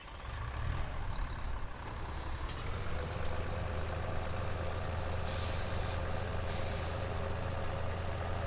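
A Deutz tractor drives in Farming Simulator 17, a loud, steady engine drone with a low rumble that holds for the whole stretch, joined by a couple of brief higher hisses partway through.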